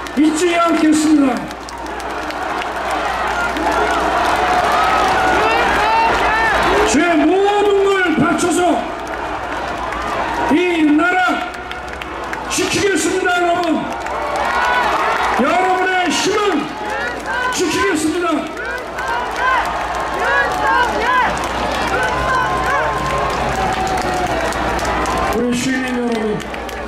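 A big outdoor crowd at a political rally sends up loud, sustained cheering and chanting in waves. A speaker's amplified voice comes in over it now and then.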